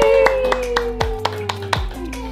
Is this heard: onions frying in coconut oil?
no